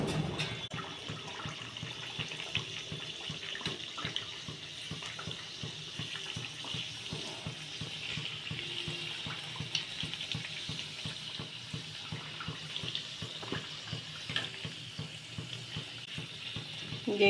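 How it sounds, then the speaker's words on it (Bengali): Luchi bread fries in hot oil with a continuous rushing sizzle and rapid bubbling crackle, moderately quiet and steady from start to finish, without any talking. "তেলটা গরম হয়ে গেছে। এবার আমি লুচিটা ছেড়ে দিলাম।"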